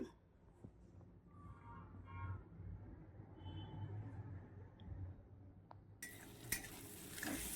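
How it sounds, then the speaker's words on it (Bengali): Onion, ginger and garlic fry in a pan while a utensil stirs and scrapes. The scraping comes in quiet, irregular clanks over a faint sizzle, and a brighter burst of frying noise arrives near the end. "আদা ঘষাটা দিয়ে দিলাম আর একটু রসুন কুচি দিয়ে দিলাম দিয়ে ভালো করে নেড়ে চেড়ে নিচ্ছি"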